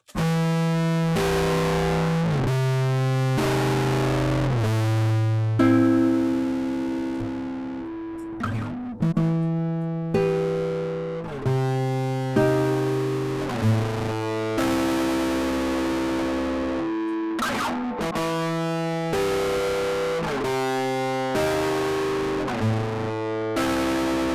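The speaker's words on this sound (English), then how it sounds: "it changes the tonality and the character of the distortion." A heavily distorted synth tone from a distortion plug-in plays a sequence of sustained notes, gritty and harmonically rich, with no talking.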